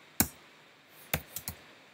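A few clicks on a computer keyboard, one sharp isolated tap followed by a quick cluster of three, close and fairly quiet in a still room.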